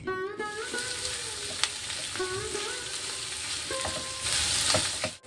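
Vegetables and onion fry in oil in a pan for street-style chowmein, giving a continuous bright sizzle with metal spatula stirring and clinks, close and alone.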